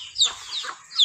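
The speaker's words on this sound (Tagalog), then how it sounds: "Manok oh." A chicken clucks close by in a few short, sharp calls across about a second, with no voices.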